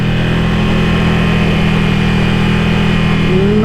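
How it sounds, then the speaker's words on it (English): A 2017 Ducati 959 Panigale motorcycle engine runs loud and close under throttle while riding in traffic, a dense steady drone whose pitch begins to climb near the end, with no talking. "Not super used to this throttle yet,"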